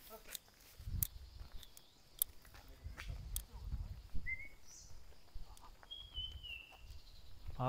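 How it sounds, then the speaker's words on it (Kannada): Several short chirping bird calls ring out at moderate distance over an outdoor background with scattered footsteps and low rumbling. "ಹಕ್ಕಿ ಸೌಂಡ್."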